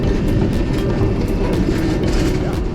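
Roller skates roll over a tram rail crossing on a Milan street, giving a continuous close, loud rumble with a few faint, regularly spaced clacks throughout.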